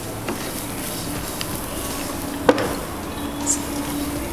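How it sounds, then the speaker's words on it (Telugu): Ingredients for homemade malt drink powder fry slowly in a pan on a low flame, giving a continuous soft sizzle with a faint hum and one brief scrape or clink midway. "మనం దీన్ని సిమ్లో పెట్టి బాగా ఓపికగా వేయించుకోవాలి"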